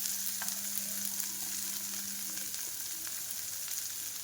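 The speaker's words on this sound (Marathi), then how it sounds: "तर पाहू शकता मोहरी आणि जिरे छानपैकी कडकडीत तडका झाला आहे. आणि त्यानंतर आपण घालणार आहोत कांदा" Onion frying in a crackling mustard seed and cumin tempering for a quick hotel-style sambar: a steady, bright sizzle that holds at an even level throughout, with small pops and crackles and no voices.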